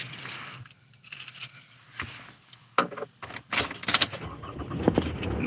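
Keys jangle and clink in short irregular bursts while someone rummages for them, close and fairly soft, with faint background noise and no talking.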